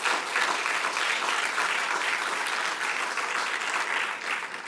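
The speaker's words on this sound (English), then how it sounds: "give ourselves a round of applause for" Steady, dense applause from a gathering celebrating the opening of new Baltimore school buildings, many hands clapping evenly for several seconds without a break.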